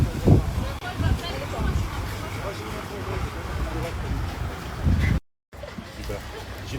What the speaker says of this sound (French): Je sais pas si vous m'entendez, il y a un vent à décorner un cocu.